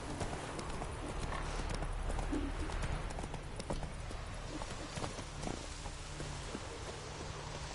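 Roach the horse ridden in The Witcher 3, a steady run of clip-clopping hoofbeats on the ground under ambient game background, with a brief faint low vocal moment.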